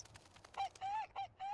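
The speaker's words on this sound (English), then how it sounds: "Oh god, chickens are here." Chickens cluck in the farming life game Sims 4, with several short, nasal squawks in quick succession, fairly close and alone, with no talk.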